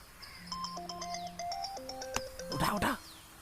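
A mobile phone ringtone plays a bright, stepped electronic melody of repeating tones, clear and close, before a burst of noisy movement near the end.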